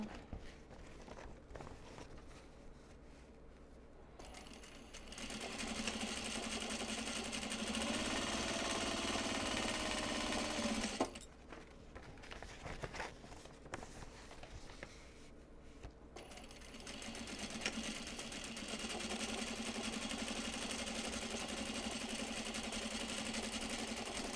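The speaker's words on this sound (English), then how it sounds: "Pull the thread so that it actually winds onto the bobbin." A sewing machine winds thread onto its bobbin in two sustained runs, a steady whirring hum lasting several seconds each, separated by quieter pauses with faint handling noises.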